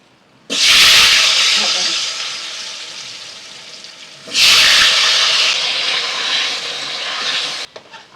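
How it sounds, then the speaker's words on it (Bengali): Potatoes frying in a kadai of hot oil while fish curry is cooked outdoors, heard as two loud bursts of hissing sizzle, each surging as food hits the oil and then settling into a steady crackling fry. "আলুগুলো হালকা করে ভেজে নেবো।"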